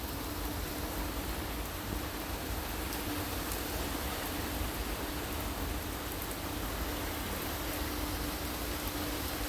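Steady rain pours down at a Walt Disney World resort, a dense, even hiss of falling water with no breaks, close and continuous throughout.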